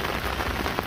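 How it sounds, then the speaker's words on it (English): Heavy rain drums densely and continuously on an umbrella at a fishing lake, loud and close with a constant patter and no voices. "you're on umbrella cam because it's absolutely chucking it down."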